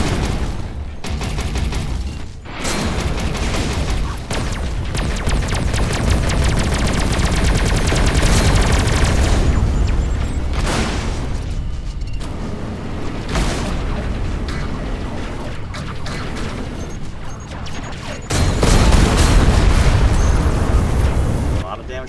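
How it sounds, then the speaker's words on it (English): Pulse laser cannon in a video game firing in dense, continuous bursts of gunfire-like blasts with heavy booming impacts, loud and close, with brief lulls around the middle and a fresh intense volley near the end. "Switch to my pulse cannon here. Or pulse laser, I believe it is."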